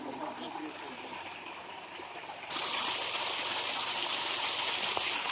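Cold natural spring water flows steadily, a continuous rushing wash that grows louder partway through, outdoors at a bathing spot with no one speaking.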